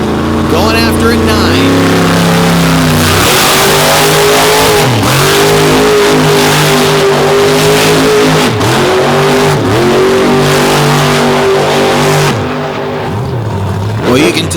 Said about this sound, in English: drifting across this massive floor here at the infield of the Lake Erie Speedway with a donut